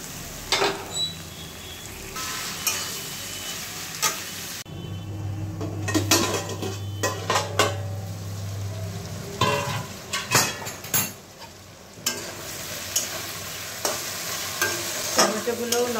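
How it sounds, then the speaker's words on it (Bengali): Chopped tomato frying with spices in a pan gives a steady close sizzle, broken by frequent clinks and scrapes of a spoon stirring against the metal. "দেখো মশলাগুলো ভাজা ভাজা হয়ে গেছে, এবার দিয়ে দেবো টমেটো কুচি।"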